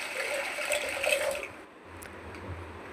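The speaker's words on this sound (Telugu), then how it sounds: "బాగా కడిగిన తర్వాత మళ్ళీ వాటర్ పోసుకుని" Water poured into a pressure cooker holding washed lentils, a steady splashing pour for about a second and a half before it stops and leaves a quiet kitchen with low hum.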